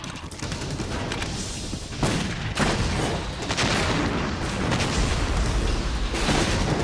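Explosions and gunfire in Metal Gear Solid 2: Sons of Liberty fill the scene as dense, continuous rattling shots and booming blasts, loud and unbroken throughout.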